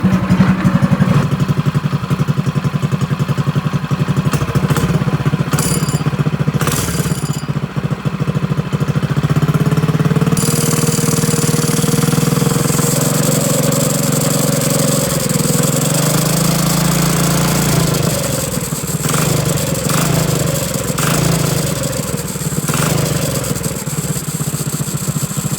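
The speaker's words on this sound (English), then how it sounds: "I'm going to start hitting the throttle just a little bit." A drift trike engine runs loud and close throughout, idling roughly and then revving as the throttle is blipped gently, its pitch rising and falling in several swells.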